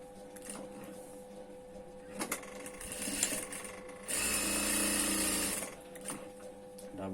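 A sewing machine runs double stitching along a ben neck collar, bursts of rapid mechanical whirring separated by pauses and handling clicks, with the longest run midway, close and fairly quiet.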